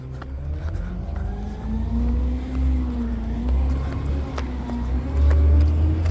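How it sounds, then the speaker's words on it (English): An Ej Harrison yard waste truck rumbles past nearby, its heavy low engine drone swelling and easing as it moves, with a louder surge near the end and no voices. "Oh, there's another truck."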